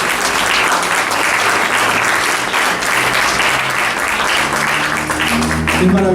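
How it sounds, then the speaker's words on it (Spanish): A church congregation bursts into strong, sustained applause that fills the room at steady loudness, with a few voices calling out near the end. "¿Cuánto dan un fuerte aplauso al Señor?"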